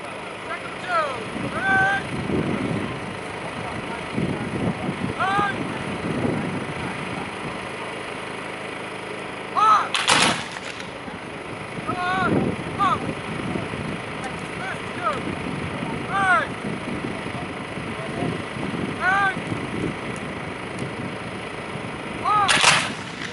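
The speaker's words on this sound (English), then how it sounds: "So all the individual platoons are now going to fire." American Civil War reenactors fire muskets by platoon at a public display, a series of sharp, booming volleys spread across the scene, some near and loud, others more distant, over steady outdoor background noise.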